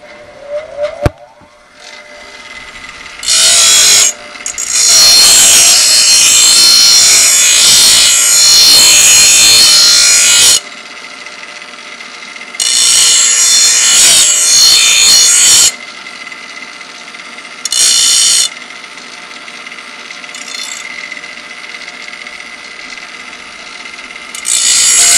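Grinder sharpening the front edge of a lawn mower blade, loud harsh abrasive grinding in several bursts of a few seconds each, separated by quieter gaps and a brief metallic ping at the start.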